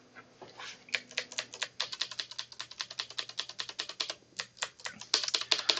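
Rapid clicking keystrokes on a plugged-in computer keyboard, a close, uneven run of taps with brief pauses and a few heavier presses near the end.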